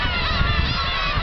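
Seabirds at a gull rookery on the Kabushima peninsula call loudly and continuously, a dense overlapping chorus of honking cries close by.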